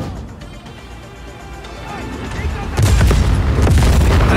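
A tank being blown up in the video game Just Cause 4: a loud explosive boom with crashing debris bursts in about two-thirds of the way through, following rumbling combat noise, with voices talking over the action.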